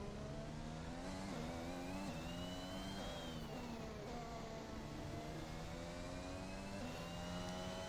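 Formula 1 car engine screaming through a qualifying lap in the F1 2021 racing game, a loud continuous high-revving whine rising and dipping with gear shifts and corners, with no talking over it.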